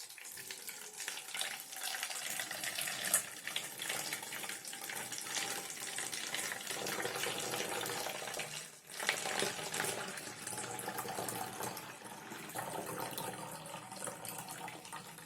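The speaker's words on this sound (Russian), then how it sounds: "Заливаем в емкость туманизатора," Liquid solution splashing as it is poured into the reservoir of a MIST-8 nebulizer, a steady close-up trickling and sloshing with a brief dip partway through, no talking.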